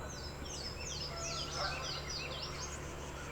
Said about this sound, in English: I wonder what the geese are saying.